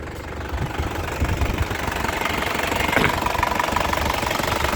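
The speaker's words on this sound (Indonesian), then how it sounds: "Stasionernya enak, mesinnya stabil, itu tidak pincang ya." A 2001 Isuzu Panther LS manual car engine idles steadily up close, a smooth, even mechanical rumble with no revving or stumbling.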